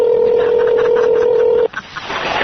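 Steady telephone dial tone heard after a caller hangs up, loud and continuous for well over a second, then cut off abruptly by a brief clatter and some muffled noise.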